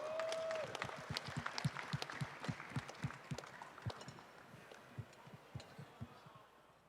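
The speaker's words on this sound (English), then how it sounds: "Let's give him a big round of applause." An audience applauds at an evening event celebrating someone's success, with a dense, steady clatter of many hands and some rhythmic pulses running for several seconds before slowly thinning out.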